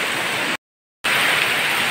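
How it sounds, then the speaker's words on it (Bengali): Rain falls onto a veranda as a steady watery hiss, cut off by a brief half-second gap of total silence before the same even wash resumes. "বাইন্দার মাঝে বৃষ্টি হচ্ছে, বৃষ্টির পানি আসতেছে"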